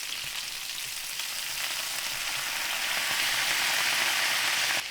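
Food frying in a pan on the heat with sauce and sesame seeds, giving a steady, close hissing sizzle that swells slightly louder toward the end, alone with no talk.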